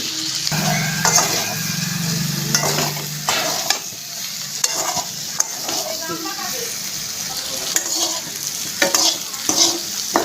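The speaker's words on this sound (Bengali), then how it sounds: "এপাশে পেঁপেতেও দেবো জিরার গুঁড়ো, ধনের গুঁড়ো। আবার একটু কষিয়ে নেব দুটোই।" Papaya sautéing in a pan with cumin and coriander powder: a close, continuous sizzle with irregular spatula scrapes and knocks against the metal, and a brief low hum early on.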